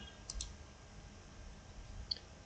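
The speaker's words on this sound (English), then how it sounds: "so what I do now is I click on File" A couple of faint, sharp computer mouse clicks while working in Adobe Premiere Pro video-editing software, quiet and isolated against low background hiss with no talking.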